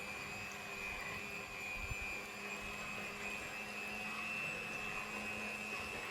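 Electric mixer whirring steadily as it beats zucchini slice batter, a continuous motor drone with a high whine held for several seconds.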